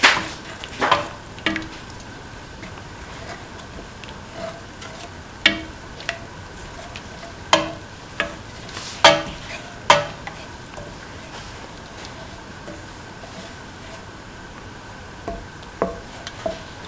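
Spoon stirring sugar into a beaten rice, banana and dates soup in an open pan, scattered sharp knocks and scrapes against the pan over a low bubbling bed, irregular and close.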